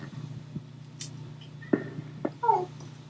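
A house cat gives a few short, soft chirping meows and trills over a low steady background hum, close by, with small clicks in between.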